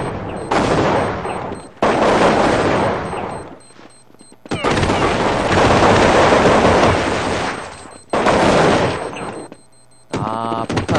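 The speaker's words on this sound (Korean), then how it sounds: "아, 폭탄 터지는 시간이 있어요" Bursts of explosive gunfire and blast noise from Counter-Strike at the WCG 2002 Grand Final, Switzerland versus Germany, as the bomb detonates, loud broad roaring blasts separated by brief gaps.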